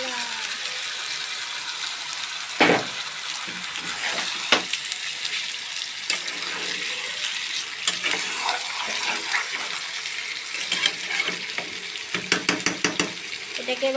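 Marinated chicken frying in oil over a medium flame, a steady close sizzle and crackle with sharp clicks and knocks of utensils against the pan.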